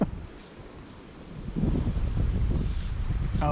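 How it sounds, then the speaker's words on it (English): Wind buffeting a microphone outdoors while trout fishing on a river, a constant low rumbling roar that swells louder halfway through, with faint rustling and no speech. "Wind's messing with me."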